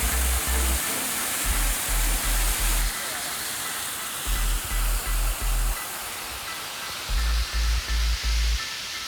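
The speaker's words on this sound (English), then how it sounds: "I can hear water, so I'm pretty sure there's water in the waterfall" Rushing water from a waterfall pours in a dense, steady hiss near Bangalore, while a low engine rumble, likely an idling Xpulse 200 motorcycle, pulses on and off underneath.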